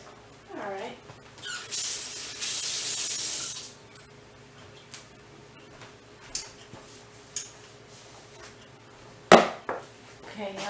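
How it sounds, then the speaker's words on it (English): Cooking spray hisses onto a casserole dish in one steady burst lasting a couple of seconds, after a short spoken sound. Soft kitchen clicks and taps follow, with one sharp clatter near the end. "now I'm going to go ahead and spray my casserole dish"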